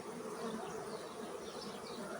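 Honey bees buzz steadily at an open beehive during inspection of a frame of drawn comb, a dense, continuous hum close by with no talk.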